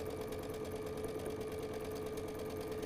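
A domestic sewing machine stitching a set-in seam runs steadily and close at hand, a continuous fast whirring hum with rapid needle ticks and no pauses.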